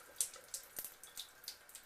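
Water runs through a Kangen water ionizer machine before the power is switched on, a faint, steady trickle with small, regular splashy drips and no talk.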